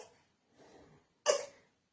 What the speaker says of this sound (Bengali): তুমি ঢং করতেছো কাশি দিয়ে।